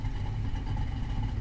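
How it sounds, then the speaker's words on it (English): An aggressive-sounding car exhaust in a PS4 racing game, a steady low rumbling engine drone held at a constant level throughout, close and fairly loud with no talk. "I got a more aggressive exhaust tip sound."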